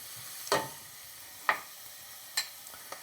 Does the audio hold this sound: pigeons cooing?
no